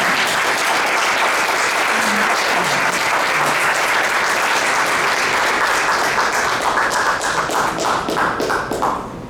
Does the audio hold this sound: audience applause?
yes